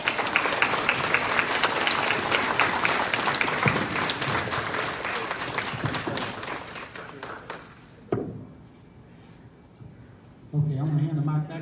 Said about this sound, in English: Your applause and your recognition is very much appreciated